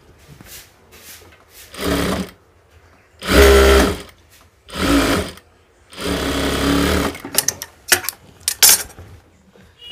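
A sewing machine stitches a pair of pants in loud, separate bursts, each a few seconds long, with quiet gaps between them and a cluster of short stutters at the end.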